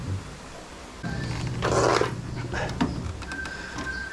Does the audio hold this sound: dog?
yes